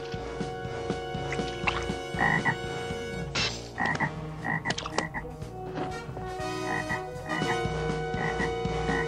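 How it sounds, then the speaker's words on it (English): Many frogs croak loudly and continuously in a dense overlapping chorus, a staged plague of frogs from the Moses story in Egypt, with no talk. "He's called down a plague of frogs."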